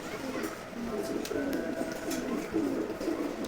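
Pigeons coo in a loft housing male racing birds kept apart from the hens, a low rolling series of soft calls at moderate level amid faint rustles and ticks, with a hint of a voice nearby.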